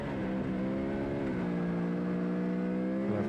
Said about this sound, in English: I could just hear Levi right behind me on his noisy Moto 3 bike